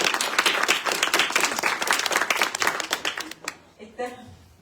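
A seated audience at an evening literary event honouring a lifetime achievement laureate applauds with dense, sustained clapping that gradually thins and fades out near the end.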